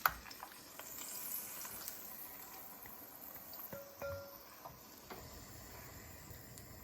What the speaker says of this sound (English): I'm going to add in the onions now. Adding the onion paste.